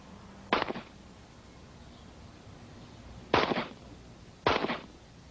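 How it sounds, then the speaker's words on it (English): Three sharp gunshots crack out at target practice, fired by an Army Ranger sharpshooter: the first alone, then two more about a second apart after a long pause, each with a short echoing tail over a faint steady background. "At target practice, his alter personalities take turns shooting."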